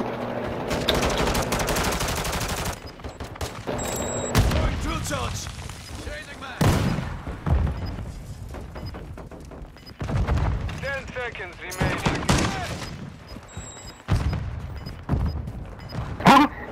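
Grenade explosion and rapid gunfire in a Modern Warfare match, with repeated loud bursts of automatic shots and booming blasts separated by short pauses, close and heavy, while players talk over it.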